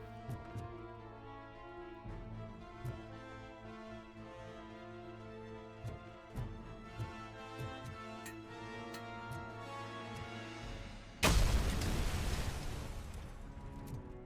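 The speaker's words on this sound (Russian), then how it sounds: "Что там так взрывается?" Explosion in the RoboCop: Rogue City video game, a sudden loud broadband blast that rumbles and decays over a few seconds, following a stretch of steady tonal game ambience with soft thuds.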